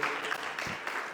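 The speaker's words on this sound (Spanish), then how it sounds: "un aplauso para Jesús por esta gran participación" Audience applause at a state pedagogical gathering, a soft, steady patter of clapping heard at a distance, brief and fairly quiet.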